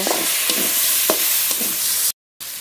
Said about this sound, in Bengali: ভেজে রাখা আলু দিয়ে দেব, এবার একটু নেড়ে নেব।